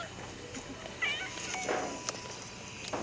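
A cat meowing in a cat video played on a device backstage at a music awards show, with a couple of faint, thin meows and soft background noise.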